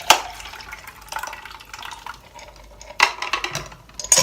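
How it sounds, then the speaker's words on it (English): Water is poured off soaking LECA clay pebbles, with uneven gushes and splashes in a few bursts and trickling between them, close and clear with no talking. "I'm going to pour the water out."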